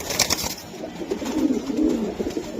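Kalibaga pigeons coo in a low, steady rumble that runs almost the whole time, close and moderately loud, with some brief higher chatter and clatter near the start.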